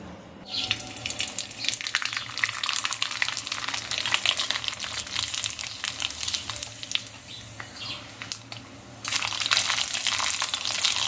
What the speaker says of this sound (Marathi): आपण आता तळतोय